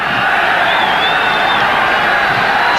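Packed football stadium crowd cheers loudly behind Zambia during a 1994 African Cup of Nations match with Nigeria, a steady, dense roar of voices throughout.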